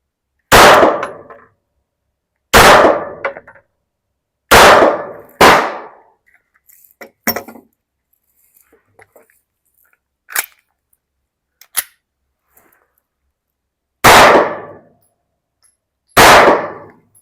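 Gunshots at an outdoor shooting range, several sharp loud cracks spaced a couple of seconds apart, with a few fainter metallic clinks and taps between them and no talking.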